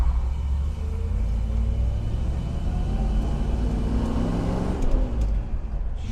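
A 1966 Ford Mustang GT Fastback cruising down a back road, its engine a steady deep rumble from inside the car with a slight rise in revs toward the end.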